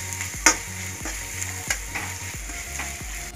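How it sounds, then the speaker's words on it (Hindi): Spiced potatoes sizzle steadily in a hot pan while a spoon stirs them, with repeated scraping strokes over the continuous frying hiss, close up and no voices. "इनको अच्छे से मिक्स कर दें ताकि ये आलू के अंदर अच्छे से मिक्स हो जाए।"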